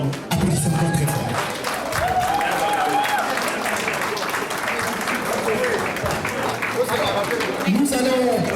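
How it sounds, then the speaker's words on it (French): A crowd at an official Congolese community inauguration ceremony in Washington, D.C. breaks into sustained applause and cheering, with dense clapping throughout and voices rising above the noise. "Applaudissez encore très fort."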